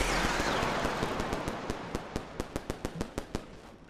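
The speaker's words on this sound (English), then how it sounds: "Check out this firecracker." In the video game Animal Well, a lit firecracker goes off: a sustained hissing burst gives way to a rapid, steady string of sharp crackling pops that grow more distinct toward the end, with no talking.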